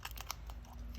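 Scissors snip a neat edge off a small plastic piece with a couple of short, crisp crunching cuts close by, and no talking.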